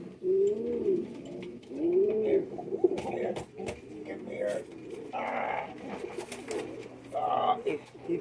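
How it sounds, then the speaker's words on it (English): A black diamond homing pigeon at a pigeon show coos in low, throaty, rolling calls repeated close by, mixed with soft handling noises and someone talking over it. "He is a black diamond homing pigeon."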